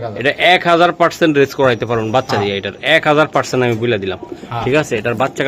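Pigeons coo at a pigeon sale, their soft calls mixed into constant loud nearby chatter from people.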